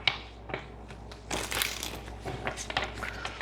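Tarot cards are shuffled in a brief, crisp run of riffling and rustling up close, with no talk over it.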